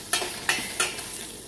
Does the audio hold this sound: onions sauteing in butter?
yes